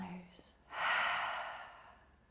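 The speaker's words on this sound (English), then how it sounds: "Last time, deep breath in. And exhale out." A single deep breath out through the mouth during a yoga breathing exercise, a soft breathy whoosh that swells and then slowly fades over about a second and a half, close and fairly quiet, following a short intake.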